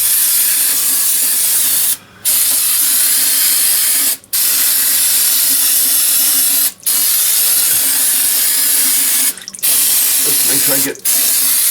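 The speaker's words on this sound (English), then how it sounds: "Brake cleaner." Brake cleaner is sprayed onto a 2008-2011 Ford rear differential in loud, continuous close hissing bursts, cut by five short pauses, with someone talking briefly over it.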